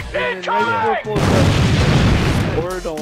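A grenade blast in Call of Duty: Advanced Warfare booms out in a broad, roaring burst lasting over a second. Excited talk comes before and after it.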